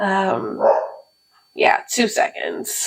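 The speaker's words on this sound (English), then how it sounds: "My dog was definitely cutting me up in the background and I just had to go tell him to be quiet real quick." A dog barks indoors in the background in short, sharp bursts, mixed with and partly under a person talking nearby.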